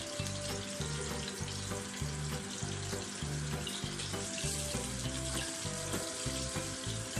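Beancurd skin rolls deep fry in hot oil, a dense, steady crackling sizzle that stays loud and close throughout with no pauses.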